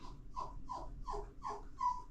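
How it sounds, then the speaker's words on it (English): A dog whines in a series of about five short, evenly spaced, high-pitched cries, quiet and close, with no voices. "my dog is crying because they're leaving, and she can sense it"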